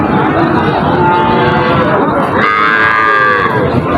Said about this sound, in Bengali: এখানে সাদা কিছু গরু আছে ছোটোগুলো একটু দেখায় আপনাদের